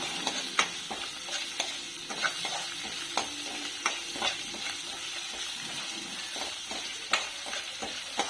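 Chopped vegetables, green chilli and tempering seeds for vegetable upma sizzle in a pan while a spoon stirs and scrapes them in a busy, continuous rhythm of soft clinks over a steady frying hiss.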